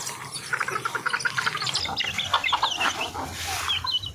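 Chickens for sale cluck close by in a rapid, busy run of short calls that carries on throughout, loud and alone with no talk over it.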